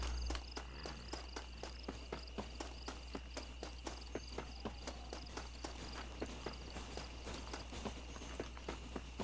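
Horse hooves from the video game Red Dead Redemption clop in a steady, even rhythm of evenly spaced hoofbeats under a low constant hum, fairly quiet throughout.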